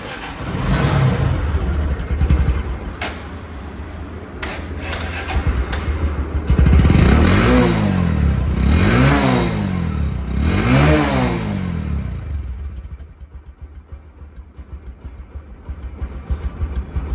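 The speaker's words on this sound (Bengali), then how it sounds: "কিন্তু এই বাইকটির সাউন্ড আছে" A used Discover 125cc motorcycle engine revs up and down several times in a row, rising and falling whines over a rumbling idle, close and loud.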